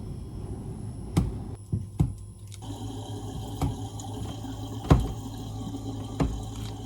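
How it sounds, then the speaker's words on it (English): Water runs into a kitchen sink while dishes are washed, a soft steady flow punctuated by sharp clinks and knocks of dishes at close range. "How are you liking the dishwasher / sink sounds?"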